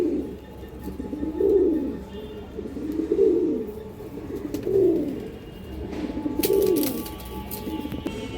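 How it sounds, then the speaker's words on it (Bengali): Pigeons of an old breed coo in a loft at a pigeon farm, with four slow rounds of deep cooing about every one and a half seconds. The cooing is fairly close over a quiet background with light rustling. "সবগুলো কবুতরই সুস্থ সবল আছে দর্শক"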